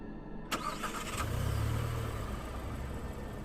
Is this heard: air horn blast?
no